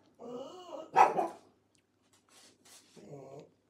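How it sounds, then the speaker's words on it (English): A pug barks and growls a few times nearby, with short yips and grumbles separated by pauses. "more barking at random things"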